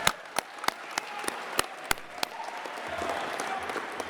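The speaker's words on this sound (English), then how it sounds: "can we have another round of applause for all the nominees for tonight?" Scattered individual claps ring out sharply at first, a handful of distinct hand slaps, then swell into a softer, thinner round of theater applause for award nominees at a sports awards night.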